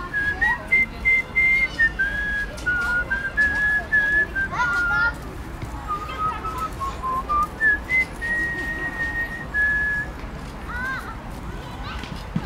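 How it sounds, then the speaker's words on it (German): Several voices whistle a Viennese melody slightly off-key, a wavering tune of held notes with short breaks, close and fairly loud, with faint background chatter. "Nur pfeifen kann ich nicht so gut."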